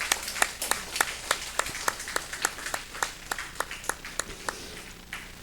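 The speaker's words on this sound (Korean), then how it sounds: "우리 박수로 축복하겠습니다." Church congregation clapping in unison during a Sunday morning service, a rhythmic beat of sharp claps at a steady pace, moderately loud and roomy, easing off near the end.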